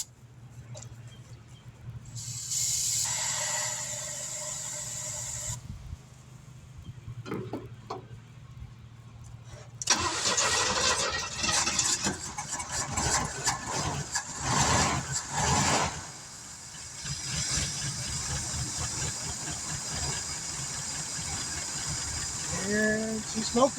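Old Crewcab Nova engine cranking, then catching and running after a likely dry fuel system, with a rough mechanical clatter and hiss that settles into a steady, loud idle.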